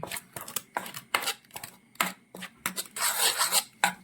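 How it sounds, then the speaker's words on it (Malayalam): Henna, amla and neelamari powders being stirred together in a bowl with a spoon, giving repeated close scraping and rasping strokes in short bursts, growing denser and more continuous toward the end. "രണ്ട് സ്പൂണ് നീലമുരി ചേർക്കുന്നുണ്ട് ഒരു സ്പൂണ് ഹെന്ന പൗഡറും ഒരു സ്പൂണ് നെല്ലിക്കാപ്പൊടിയും പിന്നെ ഇത് നന്നായിട്ട് നമ്മൾ മിക്സ് ചെയ്യണം"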